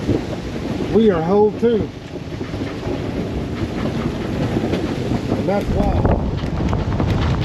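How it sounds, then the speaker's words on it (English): Heavy storm wind buffets the microphone near Mazatlan, Mexico, a loud, continuous low rumble and roar that persists throughout, with people talking over it. "Been watching this storm all morning and it finally hit us."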